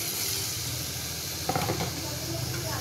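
Small gutum fish are added to hot oil in a pan for a curry with eggplant and potato. The oil gives a steady close hiss, with a brief rise in crackling as the fish go in, and there is little talk.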